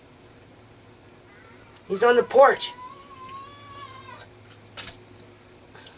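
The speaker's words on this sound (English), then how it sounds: "Fighting with some cat." A cat outside on a porch lets out a couple of sharp yowls followed by a long, drawn-out caterwaul during a fight with another cat, fairly distant, with a person speaking nearby.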